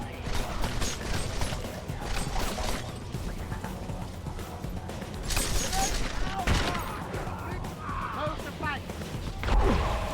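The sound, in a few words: gunfire in a video game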